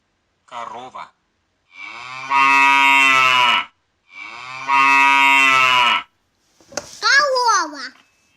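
Cow mooing in a children's farm-animal sounds lesson: a short child-like vocal sound first, then two long, loud, steady moos in a row, ending with a brief higher call.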